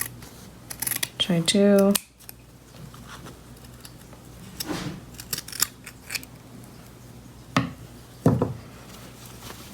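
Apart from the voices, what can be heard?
trimming excess material off a handmade bag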